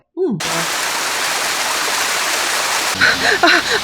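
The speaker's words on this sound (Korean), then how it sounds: "저 폭포라고 하긴 조금 민망하긴 하지만" A small waterfall feeds a flowing stream, giving a steady, close rushing wash; a voice talks briefly at the start and again near the end.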